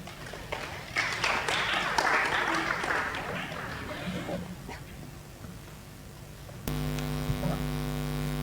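An audience at a university green week launch event applauds, a dense wash of clapping lasting several seconds in a hall, fading toward the end before a steady electrical hum takes over.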